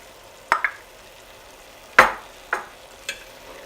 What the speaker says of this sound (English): now we're going to add our onion and mix that in